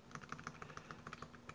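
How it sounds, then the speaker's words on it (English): Steady, rapid clicking of keys on a computer keyboard as values are entered into code, a quiet, close, continuous patter of individual keystrokes with no voice over it. "I think I can just start typing these values in here."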